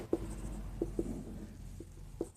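Chalk taps and strokes on a board during a class 11 maths lesson on limits, a handful of soft, sparse clicks spread over a quiet room background.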